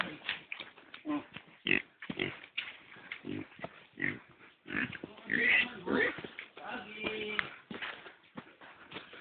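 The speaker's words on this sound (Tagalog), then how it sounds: "Baboy damo." A wild boar grunts and snorts in a series of short, uneven bursts. People talk over and between the grunts.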